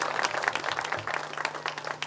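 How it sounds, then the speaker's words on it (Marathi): Audience applause at a literary conference, a brief burst of many hands clapping in a hall, dense and fairly loud, with a low hum beneath. "ऐका मग टाळ्या वाजवा, आधीच वाजवतात"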